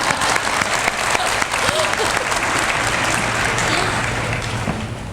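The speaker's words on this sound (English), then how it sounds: "Y'all can clap for that." An audience at a 2017 senior awards program applauds steadily for the full stretch, a dense wash of hand claps from a sizable crowd that holds fairly even and only tapers slightly at the end.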